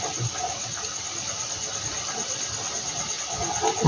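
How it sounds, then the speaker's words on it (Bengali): Egg pakora fritters fry in hot oil in a home kitchen, a continuous close sizzle and crackle holding steady throughout with faint clatter near the end. "এই একইভাবে আমি সম্পূর্ণ ভেজে নেব।"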